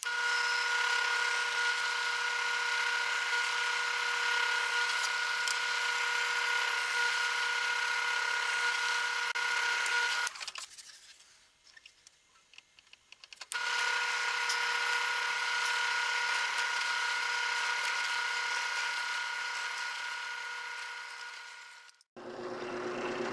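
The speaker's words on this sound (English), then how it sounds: "and then we'll drill a through hole 3/16." A loud, steady high-pitched drilling whine as a 3/16-inch through hole is drilled in a zero clearance insert plate, running about ten seconds, stopping briefly, then resuming for another stretch before cutting off.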